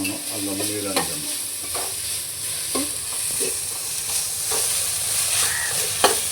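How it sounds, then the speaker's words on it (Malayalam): Garlic, ginger and chillies sauté in a pan, with a steady frying sizzle under repeated close stirring and scraping strokes, and an occasional sharp clink of the spoon. "ഇതെല്ലാം നന്നായിട്ട് വഴറ്റിയെടുക്കണം"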